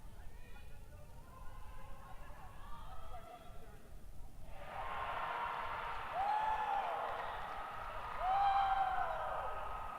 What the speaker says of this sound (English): So the cheers you can hear